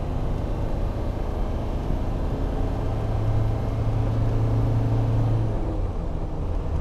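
A Land Rover Defender D90 turbo diesel drives along in 4th gear with a steady, loud low engine drone and road rumble that holds unbroken throughout, with no talking.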